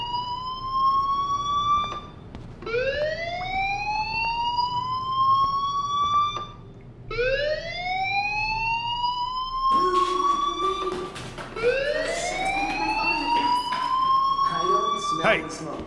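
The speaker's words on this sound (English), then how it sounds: "Hey, do you hear that fire alarm?" A fire alarm rings in the video game Life is Strange: loud, repeating rising electronic sweeps, each lasting about two to three seconds, with a background hum continuing beneath them.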